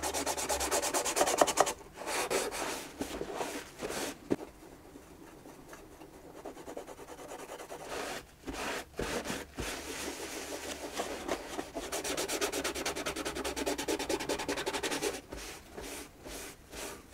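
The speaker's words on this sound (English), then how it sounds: "So I'm going to sand it very lightly and then put a bit of dark color on it." Light hand sanding of varnished violin wood, a soft repetitive rubbing and rasping in close bursts with short pauses between strokes.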